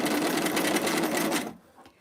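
Close, loud sewing machine stitching black fabric on a pillbox hat, running continuously for about a second and a half before cutting off into near silence.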